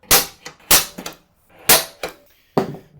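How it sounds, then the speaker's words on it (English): A center punch is struck against metal hole marks while fitting Motobilt half-door soft upper adapters: about six sharp, loud, close metallic cracks in uneven pairs with brief gaps. "I'm gonna center punch these first."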